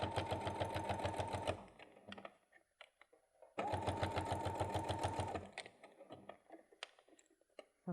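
A sewing machine stitches around a bag strap in two close, loud bursts of rapid, even needle clatter, each lasting about two seconds, separated by quiet handling noises.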